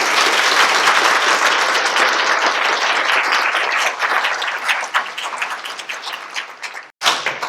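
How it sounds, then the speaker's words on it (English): Audience applause fills a city council meeting in Tupelo, a loud, dense crowd clapping that holds steady, thins toward the end, breaks off briefly near seven seconds, then resumes. "if you ask to give them a round of applause"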